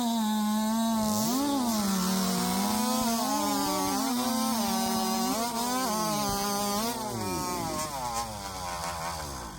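Chainsaws roar through timber at the 2023 Jackson, Alabama chainsaw race, a loud, close engine whine rising and falling in pitch as the saws bog and rev through the cut, continuous for the whole stretch with no talking.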